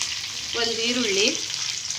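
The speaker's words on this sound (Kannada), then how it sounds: "ಈರುಳ್ಳಿ ಚೆಂದಾಗಿ ಫ್ರೈ ಆಗಲಿ." Chopped onion frying in a pan with cumin seeds and curry leaves while cooking bisi bele bath, a steady close sizzle with some stirring, and no talking.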